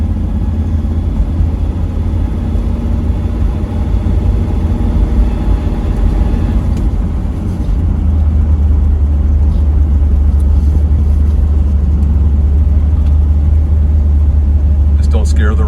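A 1969 Yenko Nova's engine rumbles loud and steady from inside the car while driving, deepening into a heavier low drone partway through, with voices faintly present.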